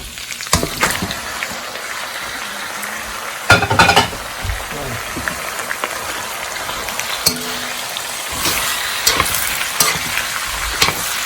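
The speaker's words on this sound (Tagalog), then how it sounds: "Igisa natin ng konti para halo-halo natin." Meat sautéing in a pan for Ilokano-style dinuguan after vinegar has gone in, with steady sizzling and repeated scraping stirs of a utensil against the pan, loud and close throughout.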